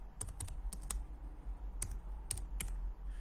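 Keys clatter on a computer keyboard in short bursts of close, quick taps separated by brief pauses, over a low background hum.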